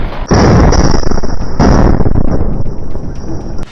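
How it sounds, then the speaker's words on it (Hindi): A rocket fired at a tank amid rubble bursts into a loud, sustained explosive roar that fills the whole stretch, with a brief sharp onset and rumbling blast continuing to the end. "एक लड़ाका मलबे के बीचों बीच खड़े एक टैंक पर रॉकेट फायर कर"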